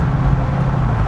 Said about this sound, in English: When you decel, so if I let off the throttle